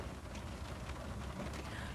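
Rain falls steadily outside a parked car, a dense even hiss and patter filling the two seconds without a break, with no voices.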